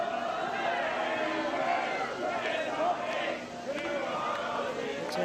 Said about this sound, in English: Hear the crowd getting buzzed for this pull